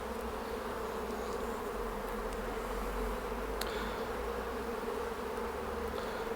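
Honeybees buzzing steadily as a calm colony's frames are pried apart with a hive tool during a summer inspection, a dense, continuous drone with no pauses.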